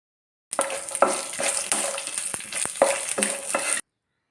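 Finely chopped ginger and garlic sizzle in hot oil in a pan for a chickpea curry, a close, steady frying hiss broken by repeated scraping stirs, with no talking.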